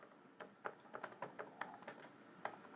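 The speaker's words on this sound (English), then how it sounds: "I'm halfway typing this." Soft keystrokes on a computer keyboard at a talk show desk, an uneven run of light clicks with short pauses, quiet and close, no voices over it.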